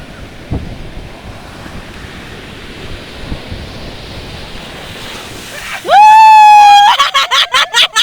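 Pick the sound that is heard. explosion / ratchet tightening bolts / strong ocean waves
strong ocean waves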